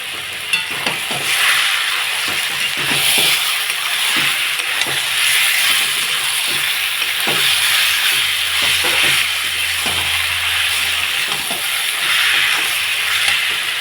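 Chicken with spices fries in a pan, giving a loud, steady sizzle with frequent stirring scrapes and clinks throughout.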